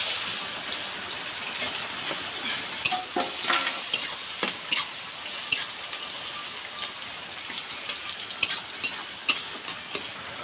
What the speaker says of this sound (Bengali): এবার নাড়াচাড়া করি, নাড়াচাড়া করে পেঁয়াজটা ভাজি, লাল লাল করে ফেলি